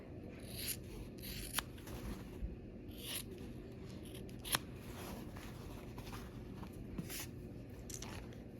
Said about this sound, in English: we are gonna go ahead and trim on the outside of this block here